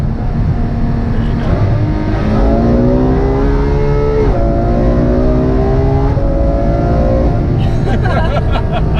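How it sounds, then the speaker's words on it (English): Ferrari F12 Berlinetta engine revving hard at high RPM, loud rising and falling tones climbing through the gears, with voices talking beneath the engine. "you really start to hear the car, hear the valves and the engine at higher RPMs in this car"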